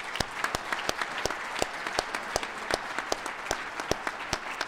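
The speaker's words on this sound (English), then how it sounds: "just one more round of applause" A crowd at the 2012 Wyoming Forum applauds a speech steadily, dense overlapping claps filling the whole stretch at an even, moderately loud level, with no talking.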